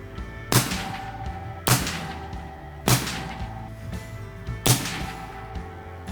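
A Henry lever-action rifle in .45-70 fired at long range outdoors: four loud, sharp shots spaced about a second apart, each with a short ringing tail, no talking.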